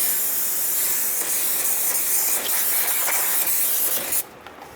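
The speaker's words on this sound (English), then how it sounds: "we are going to clean that off first with brake clean." Brake cleaner sprayed onto a Subaru Forester brake rotor, a steady close hiss that runs for about four seconds and then cuts off abruptly.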